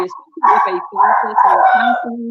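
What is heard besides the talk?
dog barking in the background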